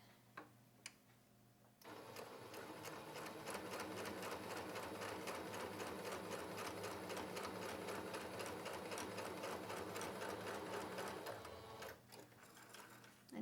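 A sewing machine stitches a seam on a cross-stitch project bag, running steadily for about ten seconds with a dense rapid needle rhythm, close and loud, after a few quiet handling clicks and before it stops.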